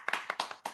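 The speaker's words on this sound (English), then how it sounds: "Let's give him another round of applause" Hand claps ring out at a chili eating championship event for the champion, with four or five sharp, separate claps over less than a second. They are fairly close and faint, with no talk.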